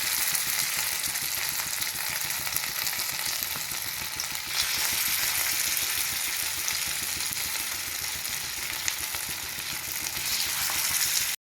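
Chhena cutlets frying in hot refined oil, a dense, even hiss and crackle that holds steady for the whole stretch with a low hum underneath.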